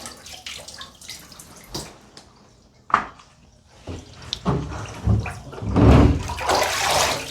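Water drains from a dirty bathtub after cleaning air-cleaner parts, with gurgling, sloshing and dripping close by that grows louder and more turbulent toward the end, with no talking.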